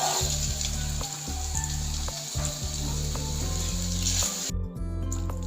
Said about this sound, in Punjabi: ਜਿਹੜਾ ਆਪਾਂ ਪਾਸਤਾ ਉਬਾਲ ਕੇ ਰੱਖਿਆ ਉਹਨੂੰ ਐਡ ਕਰ ਲਾਂਗੇ